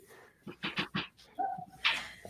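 A dog panting close by in a series of quick, breathy huffs, with a short whimper-like tone near the end.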